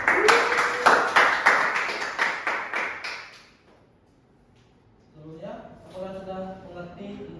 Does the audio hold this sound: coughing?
no